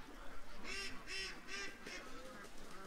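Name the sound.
ducks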